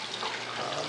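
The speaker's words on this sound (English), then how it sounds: "You just kind of want to rinse that can." Running tap water pouring steadily over a can being rinsed at a sink while brewing German altbier, a continuous close, even splashing rush.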